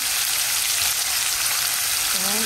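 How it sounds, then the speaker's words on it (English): Garlic and onion frying in a pan for Guyanese-style corned beef and rice, a dense, even hiss of sizzling oil heard up close without pause. "I'm gonna let it fry a little"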